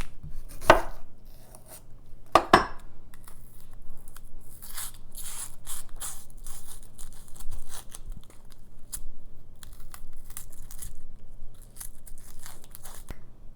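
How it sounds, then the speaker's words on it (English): Two onions are cut on a board with a knife, giving close, crisp chops and crunchy slicing scrapes in an irregular rhythm at moderate volume, with a couple of sharper knocks early on and no talk. "I'm gonna cut up the 2 onions."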